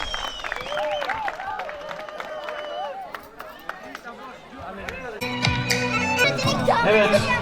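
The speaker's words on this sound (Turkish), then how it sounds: "Şimdi alkış gelsin gelin ve damadımıza." At a wedding, guests clap and cheer for the bride and groom, with scattered applause and crowd chatter that swell louder toward the end, and voices call out over it.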